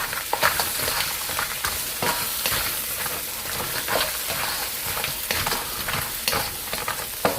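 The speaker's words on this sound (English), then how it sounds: "So we just saute it, 1, 2, 3." Crab pieces in the shell sauté in a hot pan for a Cantonese ginger and scallion dish, a steady sizzle broken by repeated scraping and clattering as they are stirred, with no talking.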